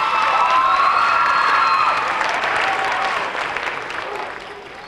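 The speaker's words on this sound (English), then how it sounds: "give them a hand of applause" An audience at a high school Black History Month program breaks into loud, sustained applause with some cheering, holding steady for several seconds before gradually tapering off.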